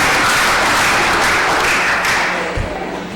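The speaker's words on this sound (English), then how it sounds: "Give a round of applause for the women-owned business owners." Attendees at a township committee meeting give a loud, dense round of applause for women business owners, sustained and then tapering slightly toward the end.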